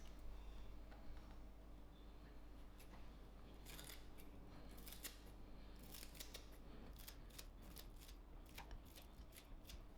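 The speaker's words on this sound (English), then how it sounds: "Now I'm gonna cut in my spring onions." Scissors snip through spring onions over a kitchen counter while mini shepherd's pies with shortcrust pastry are prepared, giving a run of quick, close, crisp cuts that cluster toward the second half over a low steady background hum.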